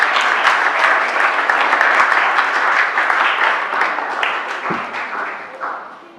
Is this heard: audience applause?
yes